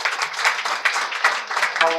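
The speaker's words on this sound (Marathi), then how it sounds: "त्या सर्वांकरता आपल्या सर्वांनी एक बार टाळ्या वाजवा." Audience applause at a village kirtan during an Akhand Harinam Saptah, a dense, steady crowd of hands clapping close by for the full length, with faint voices mixed in.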